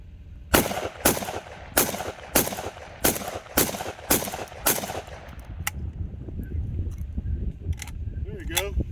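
A Spetz 12 Saltwater shotgun fitted with a Texas Precision SIGA 12 muzzle brake fires seven loud, evenly spaced shots at an outdoor range, then goes quiet as low voices and handling noises follow.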